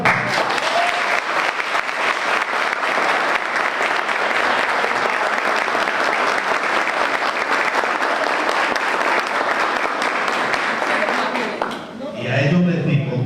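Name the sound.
graduating students applauding at a ceremony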